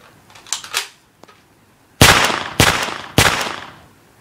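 Gunshots from a gun movie effects app play on an iPod: a few faint quick pops, then three loud sharp bangs about half a second apart, each trailing off, with no talking.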